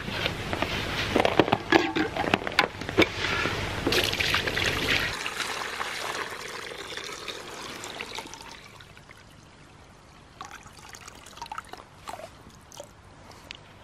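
Water is poured into winter livestock waterers in a steady, fairly close splashing stream. It thins into trickles and scattered drips as the pour eases off, with no talk over it.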